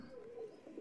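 Pigeons with pink eye-rings in a breeder's loft give a faint, short, low coo, one soft throaty note at a distance.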